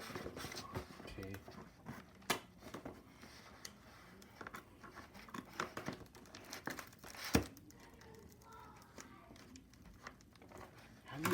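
Crinkly plastic packaging around a mystery dino toy is torn and crumpled in close, irregular bursts of rustling and crackling, with sharp snaps among them, while a person talks softly.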